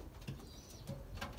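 A few low, soft coos come from Belgian racing pigeons at the loft, spaced apart, with faint fluttering and light background noise and no voices.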